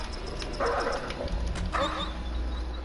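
Dogs or wolves in the horror video game Until Dawn give two short bursts of yips and barks over a steady low game rumble, moderately loud and close.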